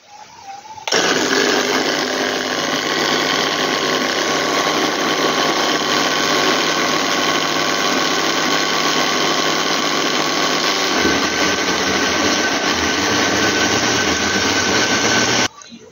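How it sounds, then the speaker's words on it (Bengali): An electric mixer grinder blends amla and ABC juice, starting abruptly and running loud and steady at high speed with a whirring, droning motor tone. It holds close and alone for about fifteen seconds, shifts slightly in pitch near the end, then cuts off. "এবার মিক্সি রেডি করে হোক"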